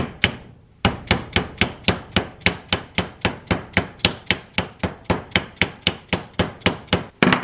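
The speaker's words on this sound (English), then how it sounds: "and I'll just give it a tap down." A hammer taps a hub seal into place on a rear brake hub, about twenty sharp evenly spaced knocks in a steady rhythm, close and loud, with no voices.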